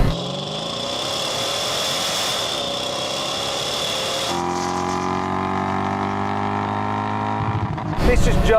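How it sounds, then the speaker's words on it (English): A Toyota Supra and a Dodge Charger in a quarter mile rolling drag race, with a loud engine note whose pitch rises, then shifts and holds a lower tone, under talk. "let's get on with this quarter mile rolling race"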